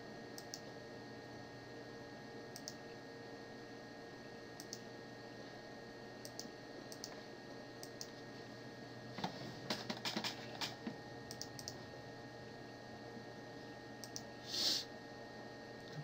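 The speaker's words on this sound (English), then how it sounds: "Playing this deck is a lot of clicking." A computer mouse clicks repeatedly while a Magic deck is played online, sharp small clicks scattered irregularly and then in a quick cluster, near but quiet over a steady electronic hum.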